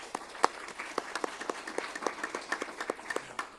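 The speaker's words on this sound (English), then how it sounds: "So give them a round of applause." An audience at a college Board of Regents meeting applauds the English department. The clapping is quiet and distant, a steady patter of individual hand claps lasting a few seconds.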